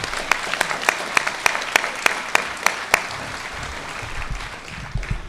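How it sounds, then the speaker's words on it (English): Graduation-ceremony audience applauding: a steady wash of clapping with a few sharp, distinct claps standing out early, thinning slightly toward the end. "So let's give them a round of applause."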